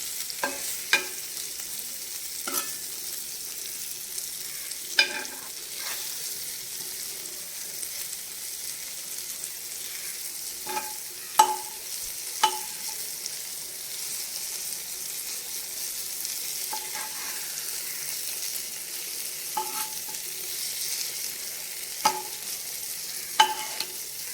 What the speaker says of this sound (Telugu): ఇదిగోనండి ఇదిగోండి వంకాయలు మళ్ళీ ఇటు పక్కకి ఒకటి తిప్పుకుందాం.